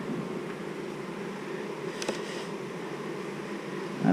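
Honeybees hum at an open hive during a swarm cell check, a steady close droning buzz with a few louder passes as bees fly near.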